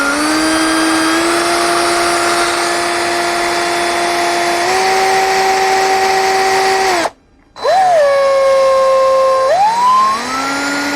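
A steady, loud electric drill whine, used on a fusee pub clock project, holds one pitch, shifts up slightly, cuts out briefly, then spins up again with rising pitch.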